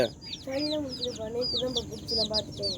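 Chickens cluck and squawk nearby in a busy, repeated chatter as a rooster chases and mounts a hen, with some faint voices in the background.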